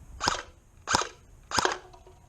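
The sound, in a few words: ICS airsoft M1 Garand rifle shooting at cups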